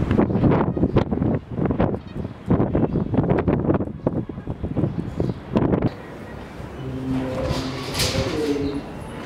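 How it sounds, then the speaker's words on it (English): Strong, hot wind sweeps past an old temple in Jaipur, buffeting the microphone loudly for several seconds before easing into a steadier rush with pigeons cooing nearby. "It's windy as hell."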